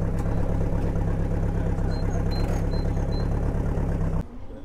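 An Alpine Turbo with side exhaust idles nearby at a car gathering, a steady low engine rumble that cuts off abruptly near the end.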